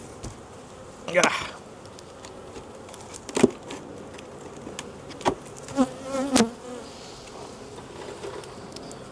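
Honey bees in a hive box during a split buzz in short bursts as individual bees fly close past, with a low hum between them and a brief spoken word.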